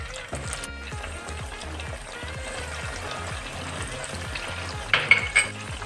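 Garlic ginger paste frying with chicken in a karhai, giving a steady close sizzle with rhythmic spoon scraping, then a few louder clatters toward the end.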